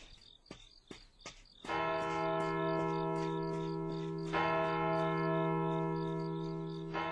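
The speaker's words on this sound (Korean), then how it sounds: "때맞춰 학교 옆에 있는 교회에서 종소리가 울려 퍼지기 시작했다." A church bell beside a school peals in repeated resonant strikes, the first few sparse and quieter, then sustained ringing with overlapping tones that linger and hum, set against faint insect chirping.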